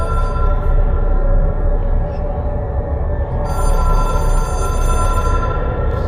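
A telephone rings in the video game Control, a loud, steady electronic trill with sustained pulsing tones that fill the whole stretch, near and dominant, with no talk over it.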